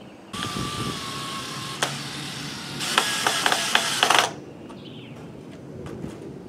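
A power drill drives larger screws into wood, a whirring motor burst followed by a sharper stretch of rapid clicking as the screw seats, then stopping abruptly.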